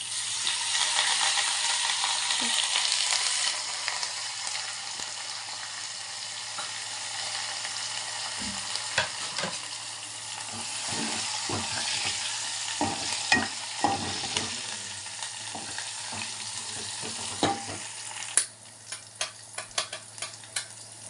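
Dry red chillies and curry leaves sizzle in hot tempering oil for mango dal, a loud steady frying hiss that fades midway and is broken by repeated spoon scrapes and metal clatter against the pan.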